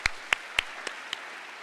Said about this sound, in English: So can we just clap for California?